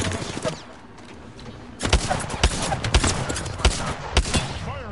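Gunfire in a PS4 online match crackles in repeated sharp bursts after a quieter opening, each shot a loud close crack with some thuds in between.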